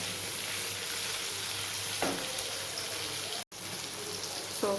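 Soya chunks shallow fry in a pan with a continuous, rain-like sizzle. One low stirring scrape stands out near the middle, and the sound drops out for an instant before the frying resumes.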